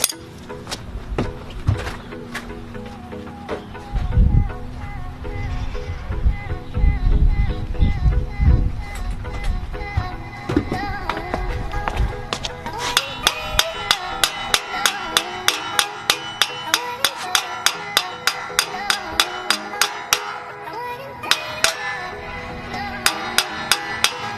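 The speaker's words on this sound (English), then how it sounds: "Hammered it a little bit." Metallic hammer blows ring out in a fast, steady series of sharp strikes on a Nissan G35 rear axle, preceded by clunky handling and rumbling noise.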